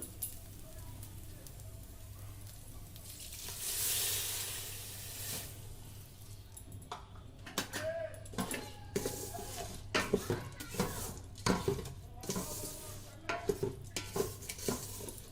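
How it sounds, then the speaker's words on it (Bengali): Rice for white polao fries in a pot while a spoon stirs it, sticking at the bottom, giving repeated scraping strokes and a soft sizzle, close and fairly quiet, with a voice heard faintly. "দেখতেই পাচ্ছেন চাউলটা ভাজা ভাজা হয়ে গেছে, নিচে থেকে লেগে আসছে।"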